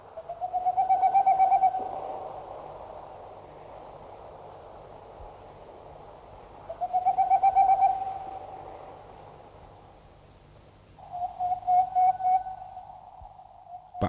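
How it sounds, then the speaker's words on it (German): An owl, a tawny-type Kauz, hooting at nightfall from trees in a Veneto park, giving three drawn-out wavering hoots spaced several seconds apart, clear against a quiet hissy background. "Bei Einbruch der Nacht verlässt der Kauz das Nest mit den Jungvögeln und hält auf den Ästen der nahen Bäume Ausschau"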